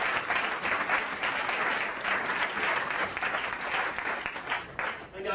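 A church congregation breaks into sustained loud applause, many hands clapping together in a continuous dense patter that fills the room before tapering slightly at the end.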